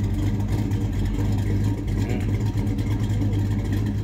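Classic cars at the Pigeon Forge Spring Rod Run rumble past, a steady loud low engine drone holding throughout with no clear single pass-by.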